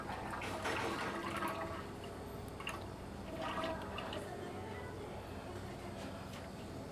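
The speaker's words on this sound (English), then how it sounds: "I'm going to pour the final batch of milk into it." Milk pours into an ice cream machine in a shop, a continuous splashing liquid rush close by, with faint talking underneath.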